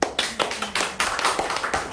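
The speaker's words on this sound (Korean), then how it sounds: "그것도 좋네요. 박수 한번 쳐주세요." A small group at a talk show claps briefly in a loose, uneven rhythm, with sharp individual claps close by and no talk over them.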